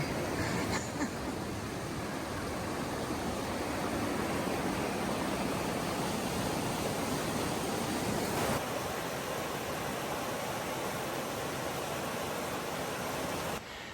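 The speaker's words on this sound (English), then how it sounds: "This is the river I was hearing just right out of camp." A river flowing just outside a forest camp in the North Cascades gives a steady, even rush of water that holds at one level throughout, with no voices over it.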